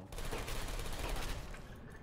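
Dense, continuous gunfire from an enemy shooter in Portal 2, a loud, close rattle of rapid shots with no talking.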